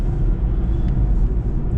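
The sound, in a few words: car engine humming from new cam chain while driving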